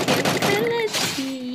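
Shotgun fire in the Free Fire battle game, a loud burst of gunshots at the start, with a voice talking over it.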